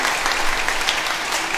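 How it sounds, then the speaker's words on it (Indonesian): Church congregation applauding during a Sunday Eucharist celebration, a dense, continuous round of clapping filling the room at close range, with no voices over it. "Kita tepuk tangan."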